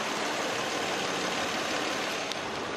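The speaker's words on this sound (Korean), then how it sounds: "엔진 소음 먼저 들려드리면은" A large sedan's V6 petrol engine idles steadily, a smooth, even hum with no variation or other sounds.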